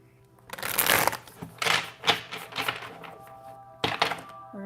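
A deck of reading cards being shuffled in bursts of rapid riffling and soft slaps, with short pauses between passes, close and fairly quiet.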